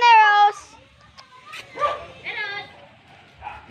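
A dog gives a sharp, loud yelping bark up close, followed by softer whimpers and yips, with children's voices chattering around it during play.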